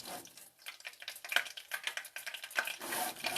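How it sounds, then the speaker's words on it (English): Butter browning in a pan for frosting, a quiet crackling sizzle with soft scraping as it is stirred around, close and faint. "And you want to kind of move it around. I move it around a little bit so it doesn't burn."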